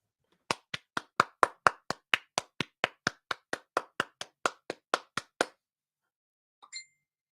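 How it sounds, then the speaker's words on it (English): Applause for Grandma comes as a steady run of about twenty sharp, evenly spaced claps, crisp and close, slightly uneven in loudness, stopping abruptly and followed by a faint soft chime after a pause. "Can we give Grandma a standing ovation right now?"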